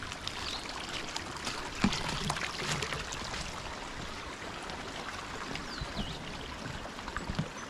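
A rain-swollen creek runs over a hiking trail in an old-growth forest, making a constant soft rushing and trickling wash at moderate distance, with a few small splashes and no voices.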